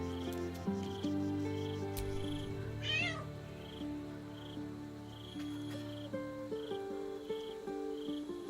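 A cat in Baldur's Gate 3 lets out a single short meow midway, set against a quiet bed of ambient music and insect-like chirps, with no talking.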